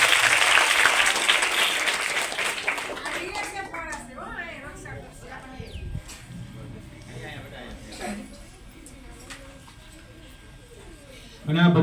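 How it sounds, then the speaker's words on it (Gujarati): A school audience at a girls' school cultural program bursts into loud applause for army soldiers, and the clapping fades after a few seconds into children's chatter and scattered claps. "તો આવા આર્મી જવાનો માટે જોરદાર તાળીઓ થઈ જાય"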